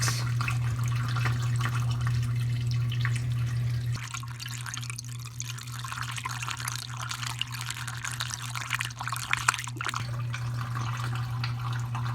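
Distilled water pours steadily into a Toyota Celica S-FE radiator cooling system, a continuous close splashing trickle running throughout with a slight change in flow partway through, with no talking.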